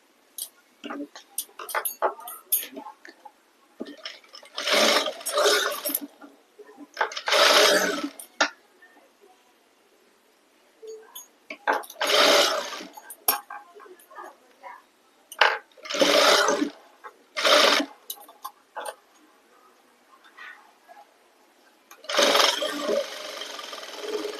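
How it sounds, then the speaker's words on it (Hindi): A sewing machine stitches a blouse in several short bursts of fast whirring and clicking, broken by quiet pauses, close by with faint handling sounds in between. "अब इसे खोल के यहाँ पे एक सिलाई लगाएंगे।"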